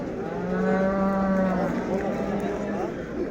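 A cow moos loudly and close by at a cold outdoor livestock market in Göksun, one long drawn-out low call, with faint crowd murmur in the background.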